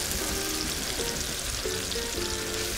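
Zucchini fry in a pan on the stove, a steady close sizzle and crackle of hot oil that fills the whole stretch, with faint clinks of a utensil now and then.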